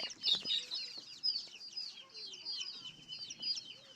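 Small chicks and hens around a rural Thai household cluck and peep in quick, overlapping bursts, fairly faint and close, with a brief murmur of voices underneath.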